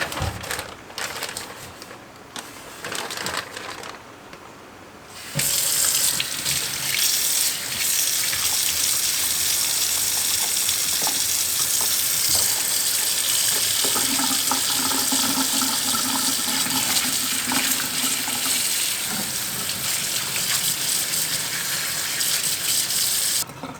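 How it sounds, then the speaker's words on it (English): Salt-cured pork belly for homemade smoked bacon rinsed under a cold kitchen tap, with quiet handling at first, then a strong, steady gush of running water that continues for most of the time. "I'm going to be rinsing this under cold water"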